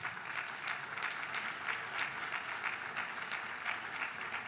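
Audience applause at the Ukrainian Canadian Congress triennial congress, a steady dense clapping crowd heard at a distance, fairly faint but sustained throughout without speech.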